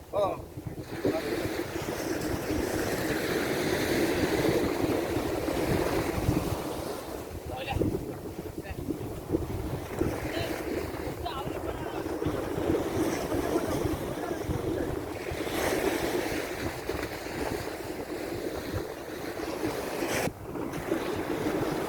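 A shore seine fishing boat at sea off Sri Lanka, with steady broadband wash of waves and heavy wind buffeting the microphone throughout, a few brief bumps and voices faintly mixed in.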